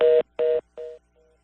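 A phone line drops during a live Korean radio call-in, followed by a repeating beep tone: three clear pulses and a fourth, fainter one, each slightly quieter than the last.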